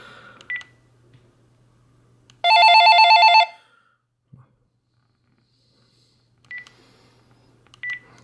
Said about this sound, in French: Sonnerie extérieure.